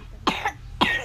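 Two short, sharp coughs about half a second apart, close and fairly clear over a quiet low background hum.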